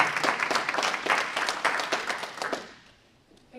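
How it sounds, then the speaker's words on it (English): An audience at a spring induction and awards ceremony claps in a steady burst of applause that fills the room, then tapers off and fades to near quiet. "Give Abby a round of applause."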